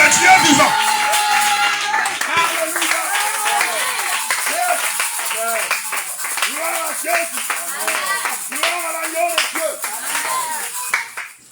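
A church congregation at a revival service in Bouaflé, Côte d'Ivoire claps together in a steady rhythm, loud and close, while a preacher's voice and the crowd's voices carry over the applause.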